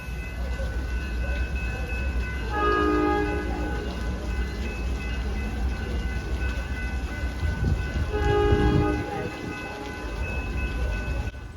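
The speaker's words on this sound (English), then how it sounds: "we heard a train horn, but it's the Detroit-bound train." An Amtrak Wolverine passenger train bound for Detroit rumbles past with steady rail noise, and two long horn blasts ring out about six seconds apart, loud and nearby, during a thunderstorm.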